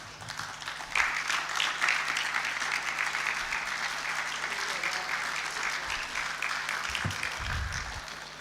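Conference audience applauding at a business conclave in Hyderabad, a dense sustained wash of clapping from a large crowd in a hall, steady for the whole stretch.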